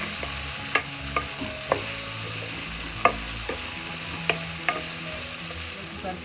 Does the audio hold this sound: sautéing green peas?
yes